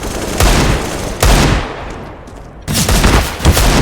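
Loud, close CS:GO gunfire comes in three dense automatic bursts separated by brief lulls, each a harsh, rapid rattle of shots.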